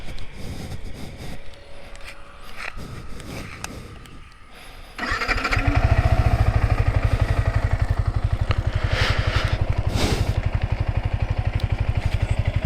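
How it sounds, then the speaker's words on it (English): A Yamaha R15 v3 150 cc motorcycle cranks with a few clicks, then starts and settles into a loud, close, steadily pulsing idle. "Now I'll start the bike and show you guys how the lights look like."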